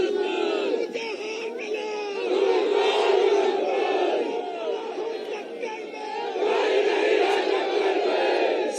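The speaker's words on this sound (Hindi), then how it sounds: "ताली बजाओ सब लोग अमरपाल जी के लिए" A large crowd at an outdoor BJP political rally roars for candidate Amarpal Maurya, with loud, sustained massed shouting and cheering swelling in waves. Distinct clapping is hard to pick out.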